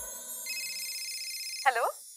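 A telephone rings with a sustained electronic tone, followed by a brief burst of a voice as the call is answered.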